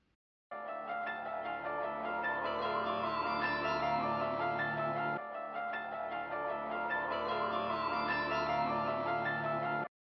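A looped, sped-up sample of the Goosebumps television theme intro with layered tones and a steady, full sound, playing alone at even loudness, briefly restarting midway.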